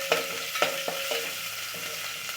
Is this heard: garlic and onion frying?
yes